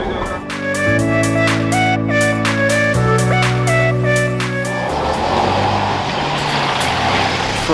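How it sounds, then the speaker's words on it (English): Interior of a bus travelling toward Croatia, steady engine drone with shifting gear tones and a rising broadband road rush, loud and continuous with no talk. "We're on our third bus of the day"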